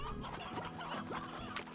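Chickens clucking in the Slime Rancher video game, a run of short, repeated clucks at moderate loudness over a busy game soundscape, with no talk.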